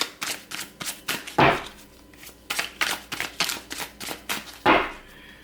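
A deck of cards is handled and shuffled close by, producing a run of crisp slaps and snaps in an uneven rhythm, two of them sharper and louder, with no one speaking.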